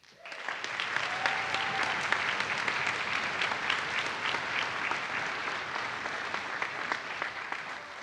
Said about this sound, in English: So a round of applause for Tim.